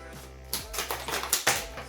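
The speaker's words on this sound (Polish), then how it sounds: "Nożyczkami do kurczaka." Poultry shears snip through the casing of an LED strip. There are about five or six sharp, close clicks and cuts in quick, uneven succession, with no talking.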